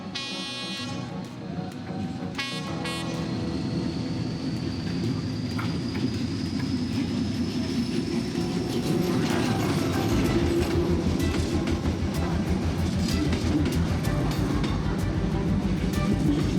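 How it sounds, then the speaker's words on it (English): A train rumbles steadily past close by on Train Street in Hanoi, with rhythmic clattering of wheels and a rising whine, growing louder toward the end. "their train was coming"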